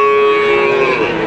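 A cow moos in one long, drawn-out low call at a cattle market in Situbondo, close and loud, with no talking around it.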